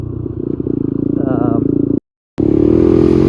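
An old Honda 250X motorcycle ridden over bumpy ground, its loud engine buzzing with pulsing revs and rattling, briefly dropping out before roaring back.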